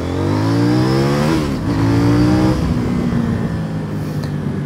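A CF Moto NK800 naked motorcycle accelerates hard, its loud close engine note climbing steadily in pitch, dropping briefly at a gear change, then pulling up again with no speech.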